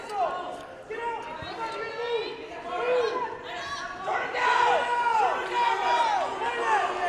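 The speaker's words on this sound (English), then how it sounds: "His teammates over on the side of the mat cheering on Rael." Teammates shout and cheer from beside the mat at a high school wrestling match in a gym, with steady crowd chatter and repeated rising yells throughout, mixed with a commentator's voice.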